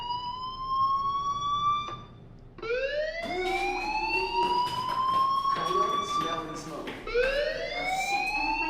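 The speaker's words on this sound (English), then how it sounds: "do you hear that fire alarm?" A fire alarm rings in the video game Life Is Strange, with repeated rising, siren-like electronic tones that sweep upward in several bursts, loud and continuous throughout.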